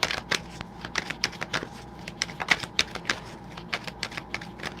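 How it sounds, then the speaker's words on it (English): Tarot cards being shuffled by hand in a quiet room: a quick, uneven run of crisp clicks and soft slaps, fairly close and faint, with no talking. "before I shuffle even any further"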